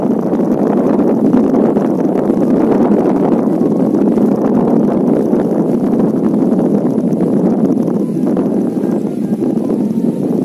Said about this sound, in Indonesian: Iya kencang sekali angin di.